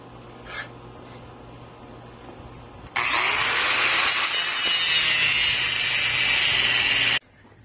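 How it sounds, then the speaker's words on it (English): An angle grinder cuts the old metal lips off a crawl space door, a loud, steady, high-pitched whine that starts abruptly and runs for about four seconds before stopping, following a stretch of low background noise. "I've just now finished grinding off both of those sides that I needed to grind off"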